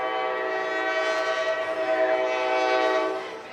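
A train horn sound effect blares over a high school football stadium, a loud sustained multi-tone blast holding steady for several seconds before easing off.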